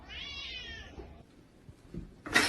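A cat's short, drawn-out meow rises and falls near the start and is heard up close in a quiet indoor room, followed by soft rustling and a brief louder noise at the end.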